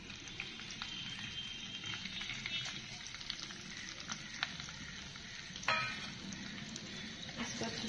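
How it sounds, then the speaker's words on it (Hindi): Bay leaf, garam masala and cumin fry in hot oil with a continuous close crackling sizzle, dotted with small pops and one sharper spatter near the end. "तेल गरम हो चुका है, अब मैं इसमें डालूंगी तेज पत्ता, गरम मसाला और जीरा।"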